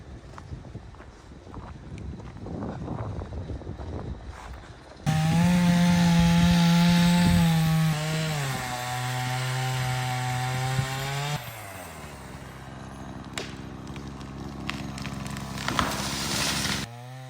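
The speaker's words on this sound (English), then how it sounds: "our saw is very, very blunt. Like it could barely cut the tree" A very blunt saw struggles through a tree trunk during clearing work for power lines, a loud steady mechanical drone with shifting pitch that bogs down partway, then drops to a lower, rougher running note before trailing off.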